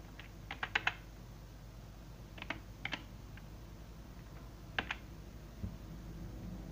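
Keys pressed on a computer keyboard while playing Royal High in Roblox, a few faint scattered clicks in small clusters over a quiet room hum.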